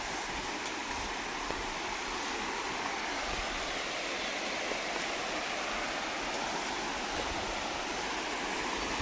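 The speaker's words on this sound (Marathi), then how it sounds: "हा नदीचा पॅसेज आहे" A river passage flowing over rocks, giving a constant, dense, close rushing hiss of moving water, even in level and uninterrupted, with no voices.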